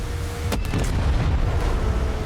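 Fireworks bursting in Far Cry 6, a loud booming blast followed by crackling pops, close and heavy with a rumbling low end.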